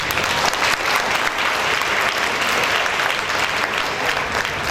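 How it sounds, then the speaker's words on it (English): A school concert audience claps steadily, a dense, sustained round of applause from a large crowd in a hall, loud and even from start to finish. "Shall we give them a round of applause?"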